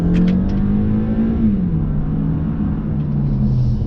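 A 2020 Toyota Camry pulls hard at full throttle, its engine drone rising in pitch, dipping briefly at a shift, then climbing again, loud and close inside the cabin.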